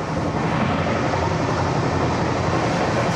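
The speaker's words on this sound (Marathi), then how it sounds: "पूर्ण AC ट्रेन आहे" Constant low rumbling drone of a moving air-conditioned train heard from inside a carriage, steady and fairly loud throughout with no talking.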